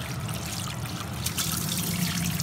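Old rice being washed in water, a steady close sloshing and trickling with light splashes throughout.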